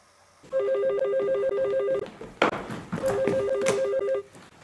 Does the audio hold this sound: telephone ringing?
yes